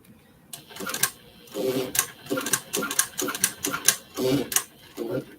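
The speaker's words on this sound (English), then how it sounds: "I'm going to sew to the second line." A sewing machine stitches a small journal cover in short mechanical bursts separated by brief pauses, close and fairly loud, with no talking over it.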